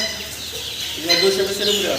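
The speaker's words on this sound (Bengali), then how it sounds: "ফাওমি মুরগির বেশ কিছু বেবি আছে মাসাল্লাহ অনেকগুলো দেখতে পারতেছেন" Over two hundred red and white Fayoumi chicks on a poultry farm give faint, high peeps that rise above a low murmur of background noise.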